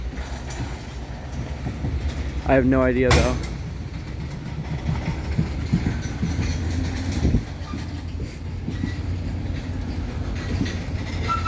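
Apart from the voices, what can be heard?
Wheeling & Lake Erie train with EMD locomotives moving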